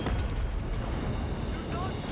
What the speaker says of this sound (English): Some of our skull cannons opening fire as well.